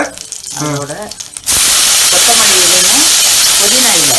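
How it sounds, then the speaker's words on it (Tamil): Green chillies hit hot oil in a village kitchen, setting off a loud, sudden steady hiss of frying that keeps going while someone talks over it. "இது எண்ணெய் ஊற்றி பச்சை மிளகாயை போட்டு லேசாக வணக்கணும்"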